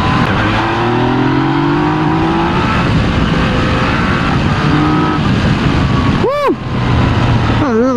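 A 2019 Yamaha Tracer 900 GT three-cylinder motorcycle accelerating on a test ride at Wuzhishan, its engine a steady close roar with rising, shifting pitch and constant wind rush. A brief dip comes near the end.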